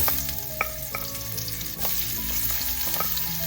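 Onion slices fry in a hot pan for pork liver adobo, a steady close sizzle with a few scrapes and clicks of stirring throughout, no voices.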